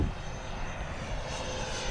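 An E-flite SU-30 twin 70mm electric ducted-fan RC jet flies past with a steady, rushing whine as it is powered back, the roar fairly loud and continuous with no talk over it.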